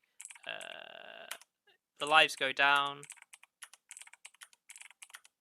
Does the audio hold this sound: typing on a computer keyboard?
yes